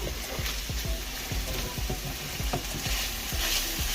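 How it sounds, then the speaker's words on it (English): Bacon being mixed into drained meat in a pan gives wet, squelchy stirring and scraping with a faint sizzle underneath, in a steady rhythm of strokes close by with no talking. "So we're gonna take the bacon and just stick it in the meat. Mix that up a little bit."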